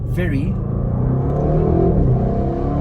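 A 2024 Audi RS6 Performance revs loudly in dynamic mode with paddle shifts, its deep engine rumble rising and falling close by while someone talks over it.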